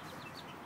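A brief, close cluck from a hatch gray gamefowl rooster, a single short throaty call under a second long.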